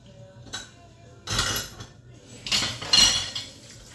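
Whisking three large eggs with two tablespoons of melted butter in a bowl, heard as a few short bursts of clinking and scraping utensil strokes against the dish, fairly close, with quiet pauses between.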